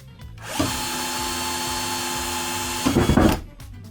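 Husqvarna string trimmer running at high speed as its line is cut against material, a loud steady whine that starts abruptly, ends in a burst of harsh chopping, then winds down.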